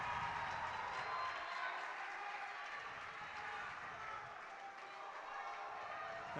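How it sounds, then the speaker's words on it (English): Student section roaring at a high school hockey playoff game in an arena, a loud, sustained crowd wash that holds steady throughout. "A big roar from the crowd from the Ashland student section over there."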